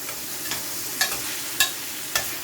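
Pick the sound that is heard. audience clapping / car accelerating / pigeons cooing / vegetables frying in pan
vegetables frying in pan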